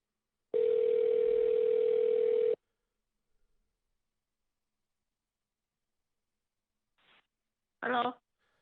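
A steady telephone dial tone holds for about two seconds during real estate cold calling, then gives way to silence and a couple of brief, faint clicks and noises on the line.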